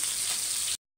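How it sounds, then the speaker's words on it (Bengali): Katla fish crackles in a hot pan, a short dense hiss of frying oil heard close that cuts off abruptly after under a second. "এখানে মাছটা আমি ভাজতেছি ভেজে"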